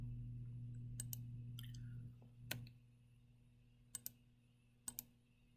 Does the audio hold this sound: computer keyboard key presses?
yes